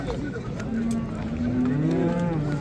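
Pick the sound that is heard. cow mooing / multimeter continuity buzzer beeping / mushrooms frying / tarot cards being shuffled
cow mooing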